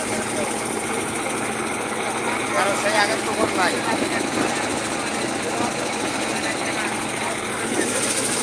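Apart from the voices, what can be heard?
fishing trawler boat engine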